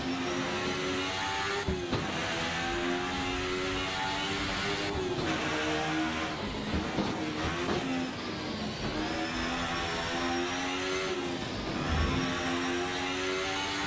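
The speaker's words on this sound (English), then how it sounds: "I'm driving this car around right now with no TC on" A race car driven with traction control off in the console sim racing game Rennsport roars continuously, its engine note rising and dropping through gear changes and revving under steady acceleration, loud and close with no talk.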